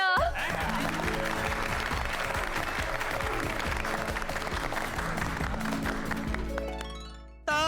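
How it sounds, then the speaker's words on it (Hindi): An audience applauds loudly and steadily for several seconds, the clapping dense and continuous before fading out near the end. "बबीता जी के लिए जोरदार तालियां।"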